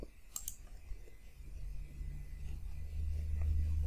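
A few light computer mouse clicks land in the first half-second during Windows 10 setup, then only a low hum and faint room noise follow with no talk.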